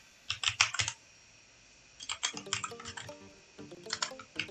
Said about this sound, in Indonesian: Kita coba ketik ulang.